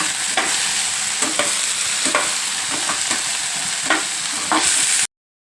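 Okra frying in a pan with turmeric and salt, stirred with a utensil at irregular intervals; a steady close sizzle runs throughout, broken by several sharp scraping strokes.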